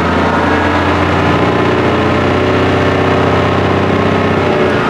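A truck's diesel engine is revved steadily to build air brake pressure, running loud and continuous close by with a deep rumble and no speech.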